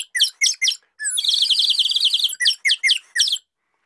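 A water-filled whistle mimics a nightingale call: quick, bright warbling chirps in short bursts, a sustained bubbling trill, then more chirping bursts before it stops.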